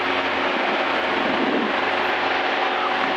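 The engine of a Zenith CH 750 Cruzer light airplane drones steadily in level flight, a loud constant propeller roar heard from inside the cockpit, with no talk over it.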